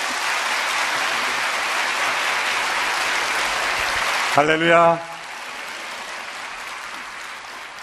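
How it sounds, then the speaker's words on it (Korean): A church congregation at a dawn prayer service claps warmly to welcome the pastor, a dense, steady applause that stops abruptly when a single voice speaks briefly. "우리 첫날이기 때문에 뜨거운 박수로 우리 목사님 모시겠습니다."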